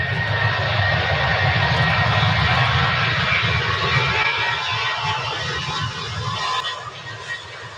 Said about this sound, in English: KLM should have departed at 9:05, and it looks like they're just going now.